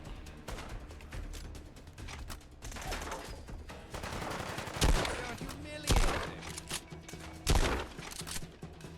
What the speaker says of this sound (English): I like this shotgun so much. No, just a very explosive shotgun.